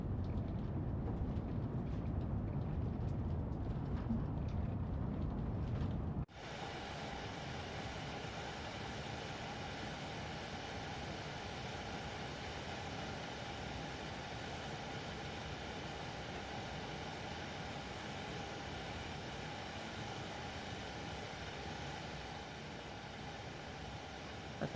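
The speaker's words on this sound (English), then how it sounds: "Not that long of a train." Train passing in a video game, a short train of about five or six cars: a steady rumbling drone that shifts abruptly in tone partway through, then holds as an even, moderately loud hum with no voices.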